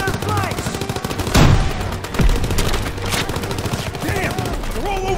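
Rapid machine-gun fire rattles without pause in a World War II shooter set in Aachen, Germany, with heavier bursts and booming impacts layered in. Shouting soldiers' voices break through the gunfire at moments.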